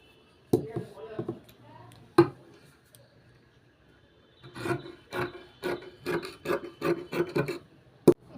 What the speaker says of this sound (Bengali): এবার কুর্তিটার হাতা কাটিং হচ্ছে।